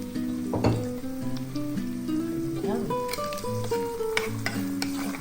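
Shrimp sizzling in a hot pan alongside celery as it is stirred in, a steady frying hiss under clinks and scraping of a utensil, with a voice talking at moments over it.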